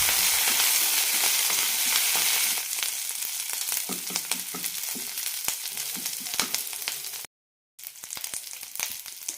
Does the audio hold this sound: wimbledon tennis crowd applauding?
no